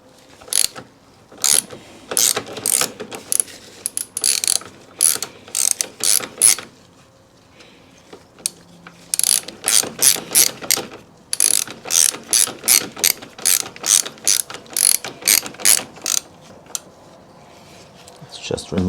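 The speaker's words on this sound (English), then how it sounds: "And now it's a 15 mil socket." A ratchet with a 15 mm socket loosens the top shock bolt on a BMW R100GS motorcycle, giving repeated bursts of quick, loud clicking strokes up close. Brief pauses separate the bursts.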